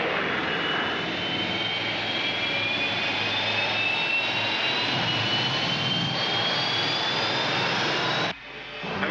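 Rescue spaceship engine moving, a loud steady jet-like roar with a slowly rising whine that runs almost the whole time, then cuts off abruptly near the end.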